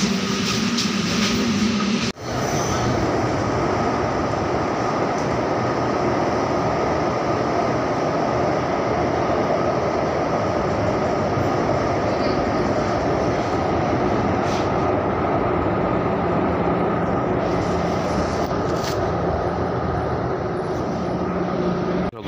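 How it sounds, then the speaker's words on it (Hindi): A metro train ride on the way to college: a loud, continuous rumble of wheels and carriage fills the whole stretch, with a brief jolt near the start and faint squeals later on, with no talking. "तर चला आपण चाललो आता मेट्रोमध्ये, कॉलेजला मेट्रो आलेले आहे।"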